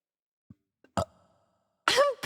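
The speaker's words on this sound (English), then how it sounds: "Burp like you mean it?" A forced, on-command burp, preceded by a couple of small mouth clicks and gulps, lands as a short close belch, then a voice comes in right after.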